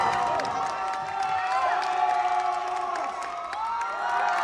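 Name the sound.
Filipino audience cheering at SEA Games jiu-jitsu match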